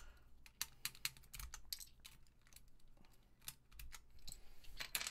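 Mechanical keyboard being worked on, giving a steady stream of crisp close clacks and tapping keystrokes with occasional louder hits over a faint low hum, with no voices.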